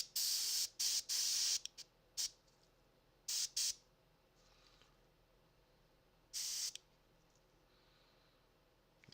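An Iwata airbrush spraying paint onto orc and goblin wolf rider miniatures gives loud, sharp hissing bursts of varying length, several close together early on and then one more later, separated by near silence.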